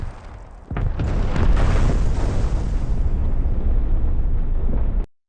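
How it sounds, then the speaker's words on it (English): A truck plunges off a narrow valley road and explodes, heard as a sudden loud blast followed by a sustained rumbling roar that stays thick and heavy for several seconds before cutting off. "Fred's truck takes on a narrow road, suddenly flies off the side of the valley, and boom! It explodes in a huge,"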